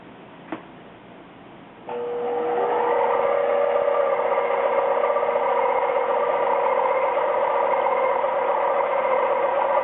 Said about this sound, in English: I'm just smoothing out the inside right now,